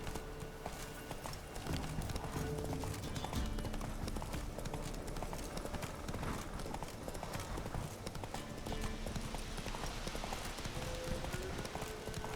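Horse hooves clip-clopping in The Witcher 3: Wild Hunt, a steady, close rhythm of hoof beats on the ground running throughout under a soft ambient game background.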